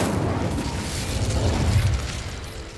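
A sustained roaring whoosh of the Incendio fire spell in Hogwarts Legacy, steady and fairly loud for a few seconds with a dense low rumble throughout.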